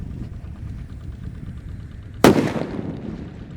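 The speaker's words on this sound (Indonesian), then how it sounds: "di sini ada halilintar. Kita nyalakan. Kita dengarkan suaranya." A halilintar firecracker goes off with a single sharp, loud bang after a stretch of steady background rumble, followed by a brief fading crackle and echo.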